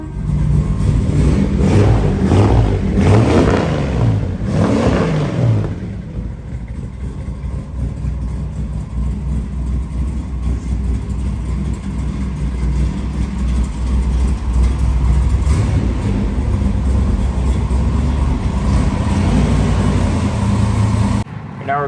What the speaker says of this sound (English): I want to point out a couple of things when I fired it up right there. That was a cold start.